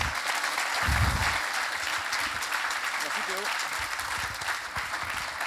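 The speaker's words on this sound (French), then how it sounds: "je vais accueillir, sous un tonnerre d'applaudissements, notre président, Ludovic" An audience at a keynote event applauds as their president Ludovic is welcomed onstage, a steady crowd clapping throughout with some voices and a brief low thump mixed in.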